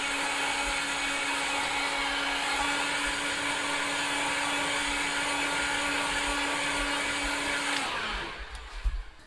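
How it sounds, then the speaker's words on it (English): A heat gun blows a steady, loud whooshing hum while drying fresh spray paint, holding constant for about eight seconds before cutting off abruptly, followed by a few soft clicks and knocks. "So get the heat gun, just move it around"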